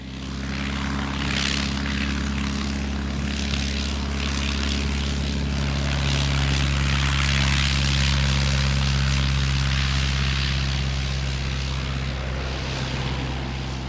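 A Miles Magister propeller plane taking off and flying, its engine drone loud, steady and close throughout, with no voices.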